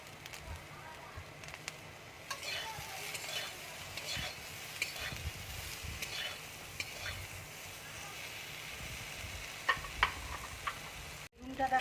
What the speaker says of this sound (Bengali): বেগুনটা দেখো আমার ভাজা হয়ে গেছে।